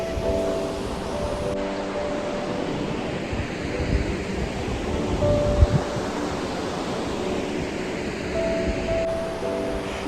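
The Saraswati river flows steadily with a broad, continuous rushing wash, close and fairly loud, mixed with wind buffeting on the microphone.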